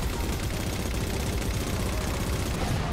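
A mounted .50 caliber gun in Halo 4 fires nonstop, a loud, dense stream of heavy rounds hammering steadily for the whole stretch.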